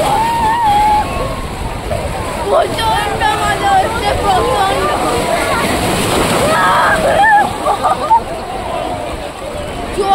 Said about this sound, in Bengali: আজ কিন্তু সমুদ্রের খুব ঢেউ আছে, দেখুন একবার আমার পিছনে ঢেউ।